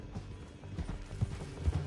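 Rhythmic hoofbeats of a galloping horse in the video game Red Dead Redemption 2, fairly close, with soft thuds repeating steadily over a low rumbling background.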